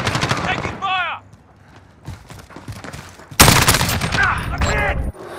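Call of Duty Modern Warfare gunfire comes as loud, dense automatic bursts, first at the start and then in a heavy sustained stretch near the end, with in-game radio voices calling out between the shots.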